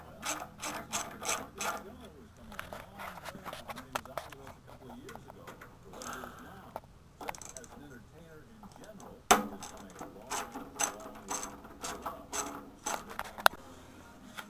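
Tank screws on a V-twin 950 being backed out with a ratchet and adapter bit, giving close, rapid runs of mechanical clicking in short bursts, broken by a few sharp metal knocks.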